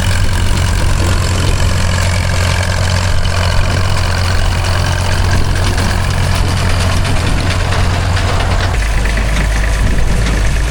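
Vintage harvesting machinery working in a field at Casterton, including a binder and a Salopian baler, giving a loud continuous low engine drone with mechanical rattling throughout; the low hum shifts pitch near the end.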